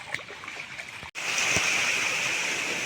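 Steady rushing water of the Anakkayam river flows continuously, a broad even wash of sound, with a brief dropout near the start.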